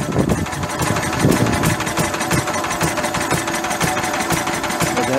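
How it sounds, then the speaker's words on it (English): A Lister D stationary diesel engine drives a generator, its steady knocking idle thudding close and loud, with a continuous electrical winding hum running underneath throughout. "I hear the winding in the generator."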